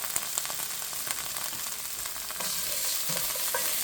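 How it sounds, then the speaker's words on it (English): Ingredients stirred in a hot pan while making Salisbury steak, a steady frying sizzle with scraping stir strokes throughout, growing slightly louder toward the end; close and without talk. "we'll give that a nice stir"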